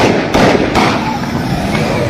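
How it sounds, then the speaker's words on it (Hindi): Gunfire in a tense outdoor setting in Pakistan-occupied Kashmir, a rapid run of sharp cracks and thumps over constant loud background noise, with bursts near the start and around the three-quarter-second mark. "ये देख सकते हैं आप, फायरिंग हो रही है।"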